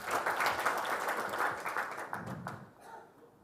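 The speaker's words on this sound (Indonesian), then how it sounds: "tepuk tangan untuk kalian." Applause from an audience at a talk on national resilience, a crowd clapping steadily and fairly close for about three seconds before thinning out and fading toward the end.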